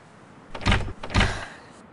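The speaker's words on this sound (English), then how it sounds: "The door is locked." A locked car door being tried in Grand Theft Auto IV: two firm rattling clunks of the handle about half a second apart, loud and close, with no talk.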